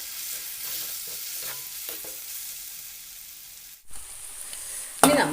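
Fried ingredients stirred in a pan for a dish made with leftover biryani rice, a steady sizzle with scraping strokes, close by, ending in a sharp clatter.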